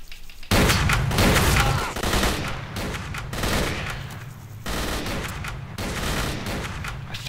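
Gunfire in S.T.A.L.K.E.R.: Call of Pripyat, loud close shots and rapid bursts erupting after a brief quiet start, repeating in heavy volleys with reverberant tails.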